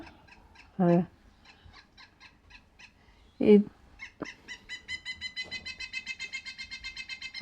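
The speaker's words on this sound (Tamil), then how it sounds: "இந்த மரம் கொத்தி பறவை இப்படி கத்துமா" A woodpecker call in Kootenay Valley, British Columbia: two loud, harsh squawks a few seconds apart, then a rapid run of short, even, repeated notes.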